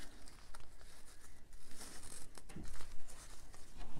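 Cardstock mat being trimmed for an autumn mini album, heard as quiet, close crinkling and snipping scrapes in an irregular rhythm, faint and alone.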